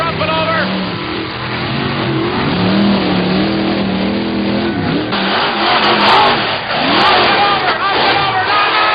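Monster truck engines roar and rev loudly during a side-by-side drag race at an arena event, with a continuous throaty drone and rising revs. A crowd and an announcer can be heard underneath.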